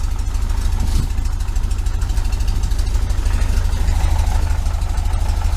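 A 1973 VW Super Beetle with a Dellorto FRD 34B carburetor setup idles close by, its air-cooled engine putting out a loud, steady, rhythmic low chug with a faint mechanical clatter on top.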